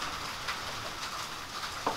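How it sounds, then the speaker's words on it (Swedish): Steady rain falls outside in the background, a soft continuous patter and hiss with a few stray drops, heard indoors while a bookcase is being painted. "Visst låter det mysigt när man hör regnet i bakgrunden?"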